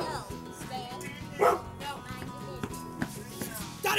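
Dogs in a training class bark and yip in scattered bursts, several short barks spread unevenly across the moment amid busy indoor room noise and background voices.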